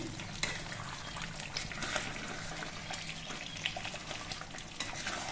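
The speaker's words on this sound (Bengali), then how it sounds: "মিনিট 10 পর আমি ঢাকনাটা খুলে নিচ্ছি আর চিকেনটা আরেকবার নেড়ে দিচ্ছি।" Yogurt chicken in a pot is stirred while it bubbles and sizzles, a quiet, continuous wet crackle with irregular soft scraping and clinks, heard close but faint.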